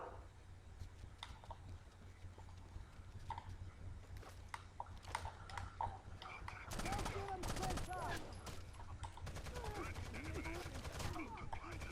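Rainbow Six Siege gunfire crackles faintly at first, then swells into sustained automatic bursts and rapid fusillades in the second half, heard at a distance under low background noise.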